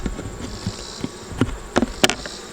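A swarm of agitated honeybees buzzes close by at a hive, and several louder buzzing passes rise sharply above the steady insect drone.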